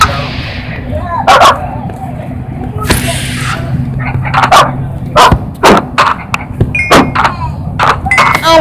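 Cartoonish puppies yip and bark in a Minecraft-style lucky block survival game, several short barks scattered across the stretch over steady game background noise, with people talking nearby.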